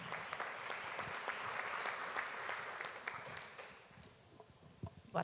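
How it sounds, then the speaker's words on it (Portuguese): An audience at a branded content forum in Brazil applauds a speaker, a fairly faint, dense patter of clapping that thins out toward the end, with a few louder isolated claps near the close. "uma salva de palmas para ela. Daniela."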